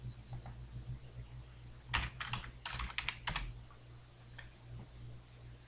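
Someone types on a computer keyboard, quiet at first, then a cluster of sharp key clicks in quick bursts in the middle before tapering off to a few faint taps.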